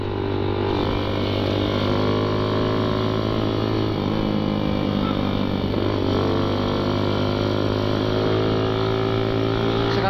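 A Suzuki Satria FU motorcycle with a loud custom exhaust rides along, its engine droning steadily and loudly with shifting pitch as the throttle changes, under constant wind noise.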